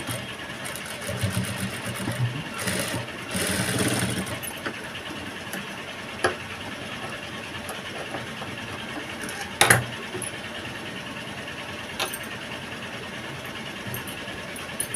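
A sewing machine runs continuously while stitching blouse piping, a steady whirring hum with a denser burst early on and a few sharp clicks and knocks as the work shifts.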